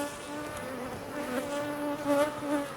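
A newborn male honeybee, a drone, buzzes steadily at a beehive during a hive inspection, a close, continuous insect drone with wavering harmonic pitch that swells slightly toward the end.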